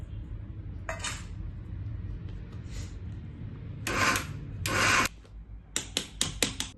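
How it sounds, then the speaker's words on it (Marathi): Sesame and jaggery mixture ground fine in a kitchen grinder in a few short, loud whirring pulses, with quieter pauses and faint clinks between bursts. "आता हे आपण बारीक करून घेऊया, थोडंसं फिरून घेऊया."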